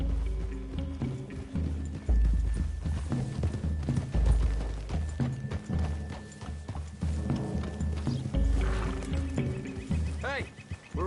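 Rhythmic horse hooves in the video game Red Dead Redemption 2 clip-clop steadily at close range, with a snort or whinny near the end, under background music.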